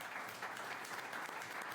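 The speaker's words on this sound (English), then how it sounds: "round of applause for our panel." Brief burst of audience applause for a panel at a live event in DC, quiet and somewhat distant, a steady wash of clapping with no pauses.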